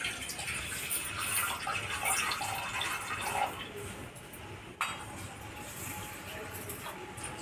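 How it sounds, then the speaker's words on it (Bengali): Arhar (pigeon pea) lentils being washed by hand, water sloshing and splashing steadily in a vessel, with a brief sharper splash partway through and a constant rushing wash throughout. "ভালো করে জল দিয়ে ধুয়ে নিতে হবে।"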